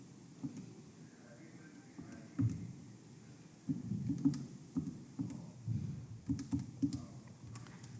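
Keys clatter on a keyboard as a volume calculation is entered, a series of soft close taps in uneven bursts with quiet background between them.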